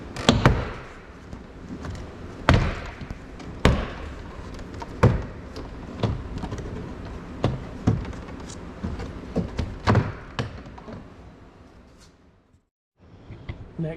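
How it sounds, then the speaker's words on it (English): Series of sharp plastic clicks and thuds as trim clips pop loose while a Nissan Qashqai front door card is pulled off, with scraping and rustling between, fairly close, ending in a brief silence. "And then just pull the door card towards you."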